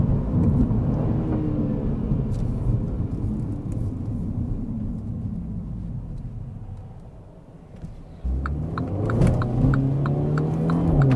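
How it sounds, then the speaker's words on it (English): A 2020 MINI JCW Clubman's engine heard from inside the cabin, droning steadily at highway speed, then dipping and jumping to a higher revving pitch as it downshifts in manual mode to exit the highway. "So downshifting to exit a highway in manual shift mode"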